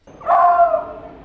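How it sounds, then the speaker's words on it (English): A four-month-old beagle puppy gives a single loud, close bark-whine with a drawn-out tonal yelp that fades away. "A ball of energy and a bark to boot."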